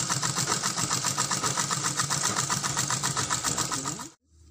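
A sewing machine stitching a handkerchief runs in a fast, steady mechanical whir with rapid rhythmic needle ticks, close and loud, then stops abruptly near the end.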